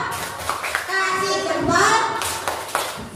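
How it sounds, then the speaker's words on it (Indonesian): Students clap hands in an Indonesian classroom, a group applause for a presenting group, with children's voices chanting and talking over the uneven claps throughout. "Beri tepuk salut, kasih jempol"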